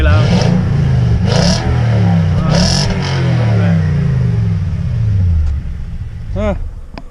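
Close, loud revving from a 2018 Toyota Tundra fitted with a Flowmaster Outlaw exhaust: three quick throttle blips with a deep grunt, then a longer rev that falls back to a rumbling idle, with a brief whine near the end.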